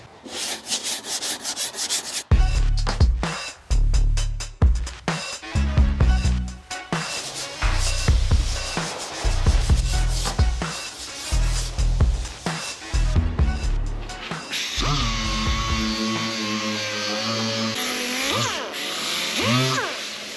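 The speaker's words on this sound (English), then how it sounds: "and then we'll sand it on both sides." Rhythmic abrasive hand sanding of body filler on a crashed McLaren 650S Spider body, repeated back-and-forth strokes, close and fairly loud, ending in a steadier whirring, buzzing passage.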